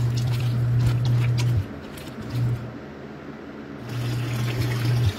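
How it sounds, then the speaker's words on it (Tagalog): Water pours and splashes into a cooking pot in two bursts with a short pause between, close and fairly loud. "Maglagay ng tubig."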